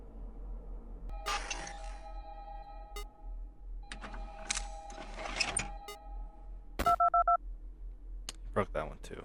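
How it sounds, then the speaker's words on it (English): Touch-tone phone dialing in the video game Five Nights at Candy's 2 plays as clusters of sharp electronic beeps and clicks in several bursts, with short gaps between them. "This game works primarily off of calling phones"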